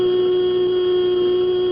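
A struck tuning fork rings with a steady, pure sustained tone, constant and unwavering throughout, with no voices.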